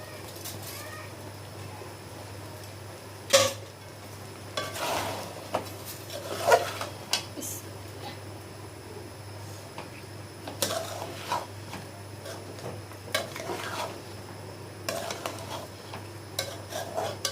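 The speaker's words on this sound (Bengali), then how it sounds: "এটা ভাজা ভাজা করে নিই।" Rice is stirred and fried in a pot of cooked meat for biryani, with scattered scraping and clinking strokes of a spoon against the pot over a low steady background, no talk.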